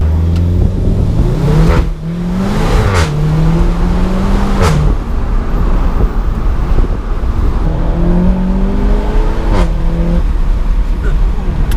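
A loud two-litre turbo engine in a Seat Leon Cupra 290 revs and accelerates close by, rising through several gear changes with sharp bursts between shifts, a voice talking faintly underneath.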